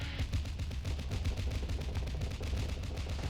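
Rapid autocannon fire in the space combat game Starsector, delivered as a dense, evenly spaced stream of punchy shots with no pause. It lasts about three seconds at moderate loudness.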